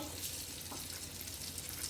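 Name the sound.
mustard seeds sizzling in hot ghee for tempering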